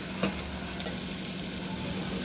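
Sliced spiny gourd is stirred with turmeric and crunchy fried garlic in a frying pan, giving a continuous hissing sizzle with a couple of sharper scrapes from the spoon.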